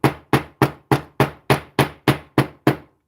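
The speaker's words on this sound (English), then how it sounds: "I'm just twisting the bail so that I can actually get my hammer in there nice and close" A hammer strikes a wire pendant bail in a jewelry craft session, ten sharp, evenly spaced metallic taps at a brisk steady rhythm, loud and close with no talk.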